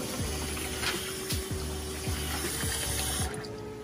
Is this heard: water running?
yes